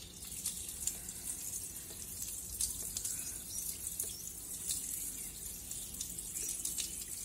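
Water runs steadily from a tap while arrowroot is rinsed at home, a soft continuous hiss with faint splashing throughout and no voices.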